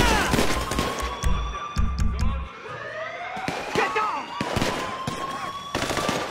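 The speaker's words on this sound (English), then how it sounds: "I'm getting shot at." Gunfire in Grand Theft Auto 5: rapid bursts of shots and sharp cracks ring out in clusters, loud and close, with brief gaps between volleys.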